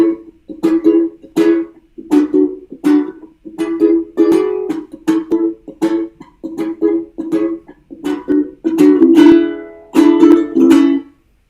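Ukulele playing short, choppy reggae-style strums by releasing pressure on a bar chord, giving a quick rhythmic series of muted, clipped chord hits, close and loud with no talking.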